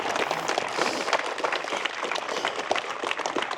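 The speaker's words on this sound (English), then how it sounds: "Can we get a round of applause for those vows?" Applause after wedding vows at Jennifer and Alvaro's ceremony: a steady wash of clapping from guests, fairly close and sustained for a few seconds with no talk over it.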